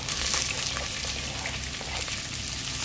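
Chopped onion sizzling in hot oil in a pan, heard as a steady, close hiss of fine crackles with no talking over it.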